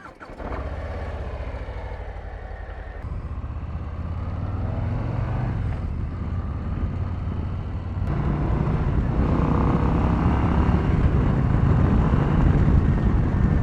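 A 2023 Harley-Davidson Low Rider ST motorcycle fires up at a dealership, catching after a brief crank and settling into a loud, deep, rumbling idle that grows heavier and fuller toward the end.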